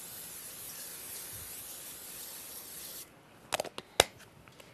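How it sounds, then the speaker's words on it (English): Cooking spray hisses onto a hot pan in a steady, close spray lasting about three seconds, followed by a few light clicks and taps of kitchen utensils. "I'm going to spray our hot pan already"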